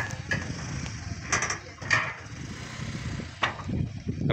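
On a small boat ferrying across a river, ratcheting, clanking mechanical noises come in irregular bursts over a low, continuous background rumble.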